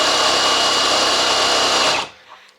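A cordless screwdriver spins an old G414 generator with a loud, steady high whir that stops abruptly near the end, leaving near silence.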